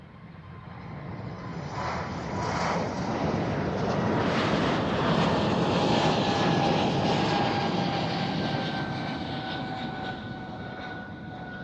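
A Ryanair airliner passing at Amsterdam Schiphol Airport, a broad roaring engine rumble that swells toward the middle and slowly fades, with a rising and falling whine, heard from outdoors at moderate distance without voices.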